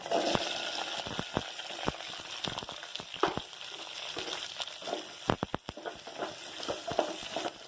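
Onions sautéing in oil for onion chutney sizzle steadily up close, broken by frequent sharp clicks and scrapes of stirring against the pan, with no talking.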